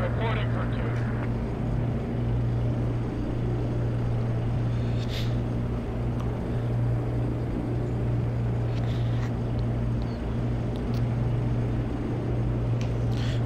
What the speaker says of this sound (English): I hear a chopper, chopper above us!